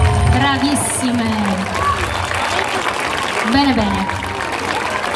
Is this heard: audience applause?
yes